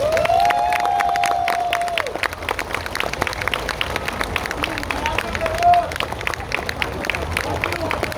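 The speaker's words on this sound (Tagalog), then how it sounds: "pwede bang yung pinakamalakas nyong palakpak para sa kanila?" A crowd of fellow office workers in Manila claps and cheers loudly for a group, with bright whistle-like calls near the start and voices mixed into the steady, dense applause.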